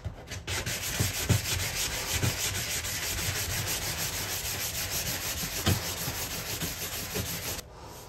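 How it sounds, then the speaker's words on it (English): 120-grit sandpaper scrubbing a cracked fiberglass bathtub, heard as a close, continuous rasping hiss with rhythmic back-and-forth strokes roughly once a second, ending abruptly near the close. "I'm actually quite surprised how good this 120 grit sandpaper is already."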